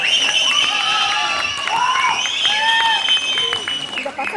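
A crowd at a college cultural performance applauds and cheers in a loud, continuous wash of noise, with shrill whistles and shouts rising above it throughout.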